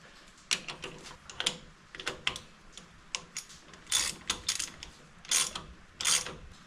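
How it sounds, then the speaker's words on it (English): Hand ratchet clicking in short, uneven bursts while the CV axle nut on a 2014 Ford F-150 is snugged to torque, with close, crisp pawl ticks separated by brief pauses. "I'm just going to torque the CV nut. That's only 20 foot-pounds, so I'm gonna do that by hand"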